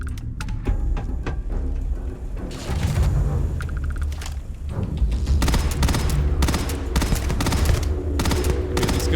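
Rapid bursts of video game gunfire crackle through a frantic shootout, with repeated volleys and heavy booming thuds layered close and loud, barely any pause between shots.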